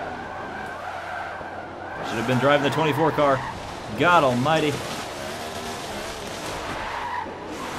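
A race car spinning out at Daytona on the banking in Forza Motorsport 7, with tires skidding and squealing in two long wavering bursts over engine noise, loud and close, while someone talks over it.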